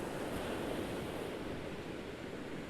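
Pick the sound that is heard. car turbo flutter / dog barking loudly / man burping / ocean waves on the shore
ocean waves on the shore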